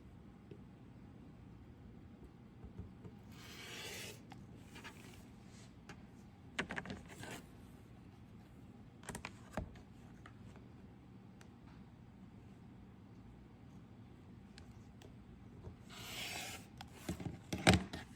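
Quilting fabric being cut with a rotary cutter along a ruler, heard as a few short quiet scraping strokes with soft handling noises in between, in an otherwise quiet room.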